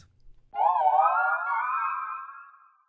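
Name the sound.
Pokemon cry from a video game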